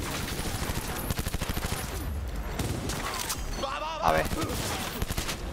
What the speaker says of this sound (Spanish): me van a herir si me están fusilando aquí